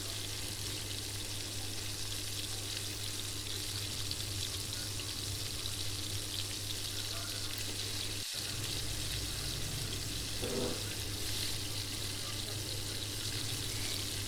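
Chana dal pakoras, small pieces of batter with raw chickpeas, frying in hot oil: a dense, steady sizzle and crackle running unbroken throughout, close and even in loudness.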